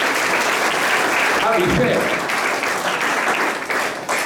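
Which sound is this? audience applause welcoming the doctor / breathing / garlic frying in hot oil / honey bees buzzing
audience applause welcoming the doctor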